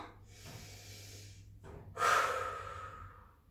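Forceful breaths out during a cardio workout, one long exhale followed by a sharper, louder blow, close to the microphone with no talk.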